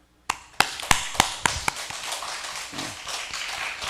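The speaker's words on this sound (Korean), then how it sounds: "좌우를 보고 박수 한번 쳐줍니다" Church congregation at a Korean early-morning healing revival service clapping, with a series of about six sharp, evenly spaced claps up front, followed by softer scattered clapping and room noise.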